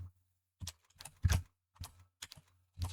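Clusters of quick taps on a computer keyboard during typing practice, bursts of clicks separated by short pauses, close and quiet with no voices.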